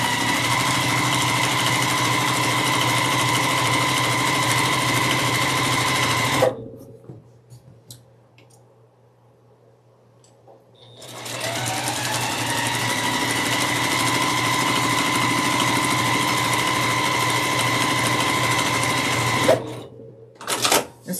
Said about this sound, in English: And so now we're going to just sew down this line.